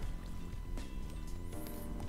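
Water being scooped up with a bucket in the Minecraft video game, a brief liquid slosh and fill sound heard among game noises inside an abandoned mineshaft.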